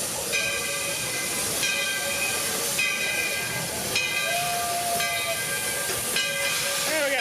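Roy, a 1916 Baldwin 4-4-0 steam locomotive on the Walt Disney World Railroad, gives off a steady, loud hiss of steam with bright ringing tones rising and fading over it throughout.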